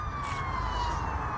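A police car siren wails at a distance, its falling tone faint under steady traffic noise.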